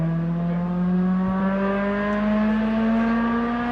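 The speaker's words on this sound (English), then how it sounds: "Jason Sims now in the Toyota Celica." Toyota Celica race car on a hillclimb course, its engine note holding a steady, loud tone that climbs slowly in pitch as it accelerates under load, heard alone without talk.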